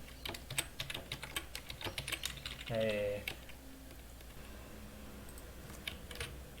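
Quiet, rapid clicks of typing on a computer keyboard, irregular keystrokes running throughout, with a brief murmured voice partway through.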